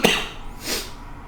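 A single sharp, loud cough bursts out at the start, followed by a softer breathy exhale a moment later, close to the microphone with no talk.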